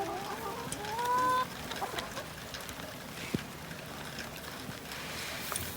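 Chickens cluck and a rooster gives a short rising call on a small farm after rain, fairly close, with scattered knocks and outdoor background noise and no talking.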